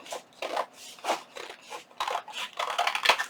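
Paper being trimmed with scissors for a junk journal pocket, a series of close, crisp snipping cuts in a steady rhythm, each a short rasping slice, with no talking over it.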